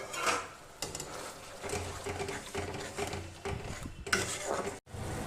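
Spices, tomato, chili paste and ginger paste are sautéed in a pan, giving a continuous close stirring, scraping and sizzling with a few louder knocks of the spoon against the pan, no talking.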